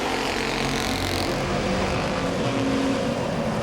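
Super Street stock cars race at Langley Speedway, a dense wash of engine roar from the field filling the air, loud and continuous with a broad distant-to-mid roar and no speech heard.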